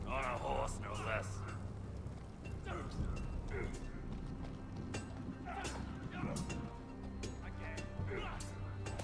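Horse hooves arrive in a Game of Thrones video game as irregular clip-clops over a low ambient bed, moderately close and fairly quiet throughout.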